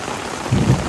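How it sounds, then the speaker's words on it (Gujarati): Heavy monsoon rain pouring down outdoors during a storm, a loud, steady wash of falling water that swells slightly louder toward the end. "હવે હજી વરસાદ ઓછું થવાનું નામ જ નથી લેતો."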